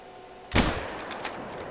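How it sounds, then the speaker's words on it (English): A single sharp rifle shot fired at a deer in a hunting video game, a loud close crack followed by a short decaying echo, with no talking. "Let's get our rifle and let's go ahead and shoot this guy."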